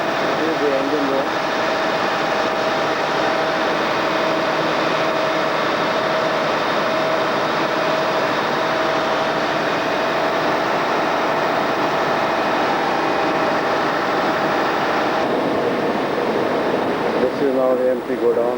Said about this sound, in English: This is the engine room.